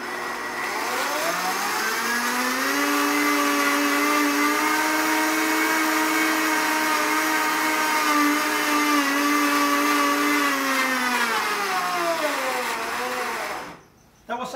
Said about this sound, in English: we go to the blender again and mix it again, just for a small amount of seconds